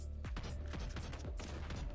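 Rapid machine gun fire in a video game rattles out as a dense, continuous burst of sharp repeated shots, loud and close, with no voices.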